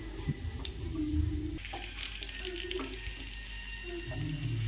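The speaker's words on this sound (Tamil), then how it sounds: "கருவேப்பிலை போட்டு தாளிச்சிடலாம்." Curry leaves with urad dal and chana dal splutter and crackle in hot oil, a tempering for coconut chutney. The sizzle stays steady and close throughout, with a few sharper pops and no talking.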